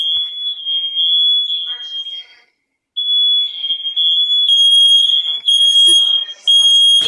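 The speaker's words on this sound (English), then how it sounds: "This alarm can't be hushed." A Nest Protect smoke alarm in a house sounds a loud, piercing steady tone in long blasts with a brief gap, joined later by higher shrill beeping layers; a synthetic voice announcement runs under it.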